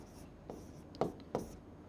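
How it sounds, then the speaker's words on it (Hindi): Chalk or marker strokes on a classroom board as a Hindi grammar teacher writes an example, three or four short scratching taps spaced out over a quiet, faintly hissing room. "तो देखिए यहाँ पर मैं इसका उदाहरण लिख देता हूँ"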